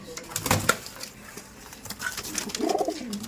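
Short-size Rampuri pigeons being released, with soft cooing and bird calls in a few bursts, plus some flutter and handling noise close by.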